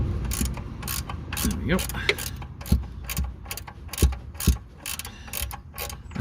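A ring spanner ratcheting on a bolt of a BMW E60 5 Series rear control arm: close, uneven metallic clicks and clunks in short bursts, with someone briefly speaking partway through.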